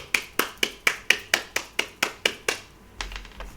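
One pair of hands claps in an even, brisk rhythm, about eleven close, crisp claps, then stops; no voices.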